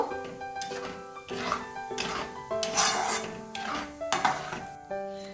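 A spoon scrapes and stirs through palak paneer in a pan as milk is mixed in, a few rough rubbing strokes in uneven bursts under faint background tones, close and moderately quiet.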